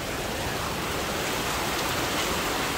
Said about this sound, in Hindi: कितनी जोर से आ रही है बारिश, है ना।